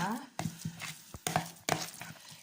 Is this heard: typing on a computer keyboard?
no